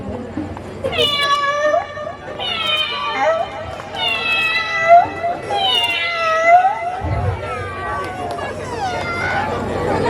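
A mimicry performer on stage imitates a cat, giving a string of drawn-out, wavering meows one after another, with an audience murmuring in the background.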